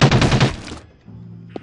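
Automatic machine gun fire in the horror game Nosferatu: The Wrath of Malachi, a loud rapid burst of shots lasting about half a second, then a low hum and a brief faint click.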